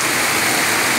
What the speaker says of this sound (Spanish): Está lloviendo ferozmente en La Paila. Venteado. Está lloviendo venteado.